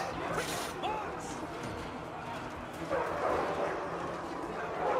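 War dogs bark and yip in a Total War: Arena battle, sounding faintly amid the background noise of fighting with no talk over them.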